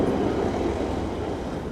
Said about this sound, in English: Hey, here comes the train just here.